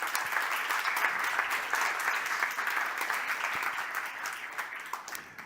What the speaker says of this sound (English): A big round of applause to our speakers.